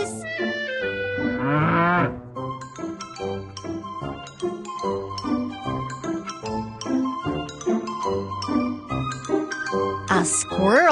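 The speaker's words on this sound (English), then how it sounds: "A cow goes." Cartoon cow mooing in a kids' animal-sounds learning game, a drawn-out moo near the start, then chiming jingly music with a bright tone at the end.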